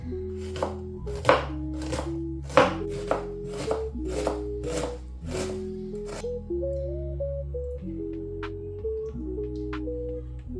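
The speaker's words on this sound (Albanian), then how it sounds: "I presim qept." A knife chops onions on a board in quick sharp strokes, about a dozen in a row, then stops, leaving quiet music in the background.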